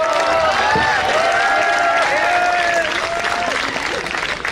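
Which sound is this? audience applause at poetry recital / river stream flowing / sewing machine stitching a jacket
audience applause at poetry recital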